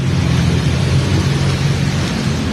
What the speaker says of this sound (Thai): ฝนตกอีกรอบ